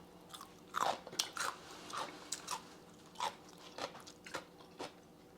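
Crisp oiji, a traditional Korean salt-pickled cucumber kept in a kimchi refrigerator, is bitten and chewed up close, giving about a dozen sharp, wet crunches in an irregular rhythm against a quiet background.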